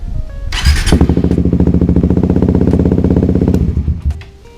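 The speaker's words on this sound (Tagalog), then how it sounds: "ang lakas rumidondo ng starter ng motor" An electric starter on a Suzuki GSX 150 motorcycle whirs briefly, then the engine cranks with a rapid, loud rhythmic chugging for a few seconds before cutting off.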